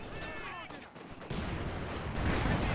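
Maxim machine gun fire in the Company of Heroes wargame, rapid bursts of gunfire growing louder in the second half, mixed with battlefield noise and a brief whistling sound early on.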